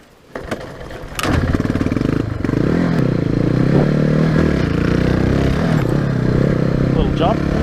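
A Hyosung GD250n motorcycle is push-started on a hill, with a scrape and clatter before the engine catches and settles into a loud, steady, close idle and ride.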